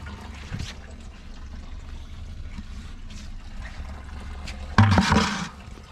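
Gasoline from a Ferrari 250 GTE tank drains and trickles steadily into a bucket, a continuous close liquid splashing that swells briefly louder near the end with a container shift.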